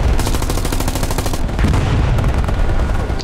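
M1919 machine gun firing in the Hell Let Loose World War II game, a loud continuous burst of rapid automatic fire with booming low-end reports filling the whole stretch, close and dense with no pauses.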